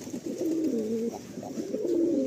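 Madrasi and Andhra pigeons cooing up close, a continuous run of soft, low, rolling coos that overlap for a couple of seconds.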